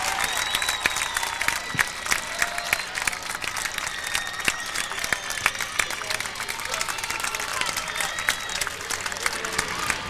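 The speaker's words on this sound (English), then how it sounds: "the stands rise now. Fans cheering the Saints." Fans in the stands at a girls' state high school soccer championship cheer and clap, a distant, sustained crowd roar dotted with sharp individual claps, with a commentator's voice faint in places.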